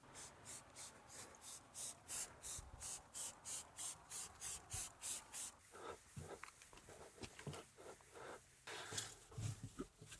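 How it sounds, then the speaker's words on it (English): Turtle Wax ceramic spray coating misted onto aluminium in a run of about a dozen short, evenly spaced hissing bursts, then quieter rubbing and handling noises close by. "I've decided to try a ceramic spray coating from Turtle Wax"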